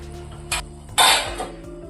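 A lid set down on a pan of fish masala gives a couple of close metallic clanks, one light knock followed by a louder clattering settle with a short ring, then quiet kitchen room tone.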